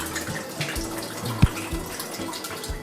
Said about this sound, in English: there's this little flip right here that you can drain out the water